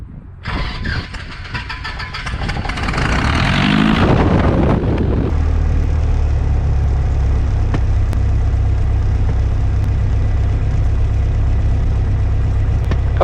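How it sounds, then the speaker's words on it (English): A light aircraft on runway 21 at Gamston opens up its engine for takeoff: a rough, rising roar builds over a few seconds, then settles into a loud, steady propeller drone. "Lima Bravo taking off runway 21"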